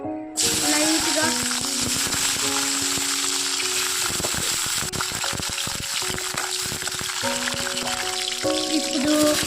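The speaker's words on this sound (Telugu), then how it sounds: "బాండీలో నూనె వేసుకొని మిర్చి వేయించుకోండి లైట్గా." Green chillies frying in oil in a kadai for tomato roti pachadi, a steady loud sizzle and hiss throughout with clinks and stirring, while someone talks over it.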